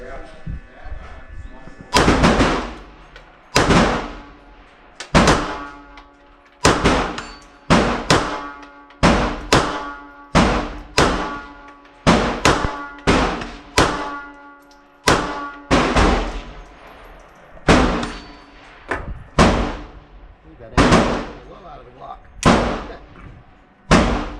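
Pistol shots from a Beretta 80X Cheetah at an outdoor range, about twenty sharp cracks in a steady paced string, loud and close, each with a short ringing tail and no talking between them.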